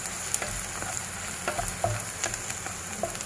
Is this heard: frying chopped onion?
yes